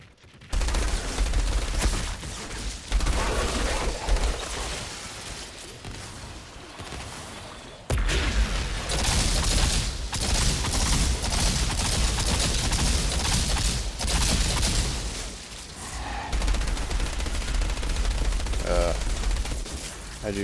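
A light machine gun firing in the video game Monroy's Legacy, in sustained, dense bursts that fill the whole stretch with rattling noise, with a brief break near the middle and a voice talking underneath.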